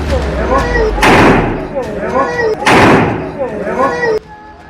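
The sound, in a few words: gunfire, a man firing a gun in a street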